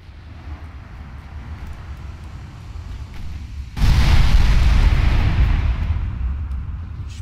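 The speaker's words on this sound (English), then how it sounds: "6-inch guns opening up and immediately scoring hits on the destroyer" Six-inch naval guns from a battleship game fire and strike a destroyer, a sudden heavy boom that swells into a loud, rolling roar and slowly fades, following a quieter rumbling stretch.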